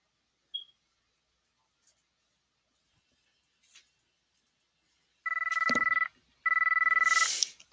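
A phone rings indoors in two loud, close electronic tone bursts separated by a short gap, preceded by a few faint clicks and small sounds in an otherwise quiet room.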